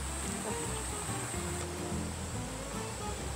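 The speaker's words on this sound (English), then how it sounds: "it's super calming just to listen to the water and just to dip your feet in" Water rushes steadily through a mountain valley stream, a close, even broadband wash that holds constant throughout with no pauses and no voices over it.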